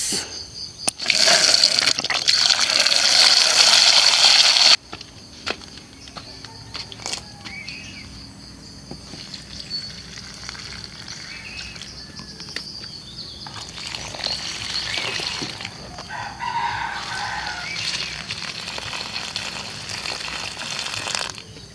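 Water is poured over a planting bed of onions, a loud splashing burst at the start followed by a quieter stretch with insects chirping, then softer pouring and trickling returning later.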